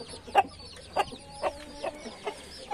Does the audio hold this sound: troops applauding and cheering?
no